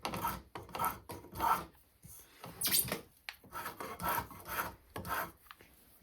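Hand tools rasp and shave a wooden foot stool tenon in a series of close, rhythmic strokes, each a short scraping rub separated by brief pauses, with no talking.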